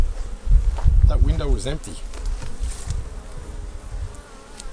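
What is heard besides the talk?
honey bees working at a beehive honey super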